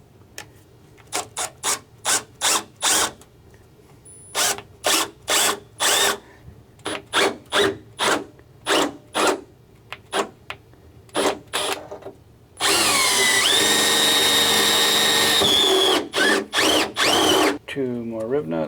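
A power drill on a C5 Corvette trans tunnel fires in many short, sharp bursts for installing rivet nuts, then runs in one long continuous whir, close and loud.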